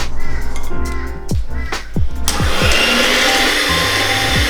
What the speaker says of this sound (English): Turn this thing bad boy on. Start whisking your egg whites.